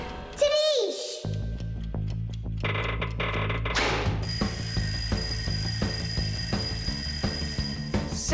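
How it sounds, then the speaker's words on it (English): A cartoon alarm clock starts ringing partway through, a steady, bright, continuous bell that carries on loudly to the end over the busy animated music and sound effects. "I think I can hear my alarm ringing."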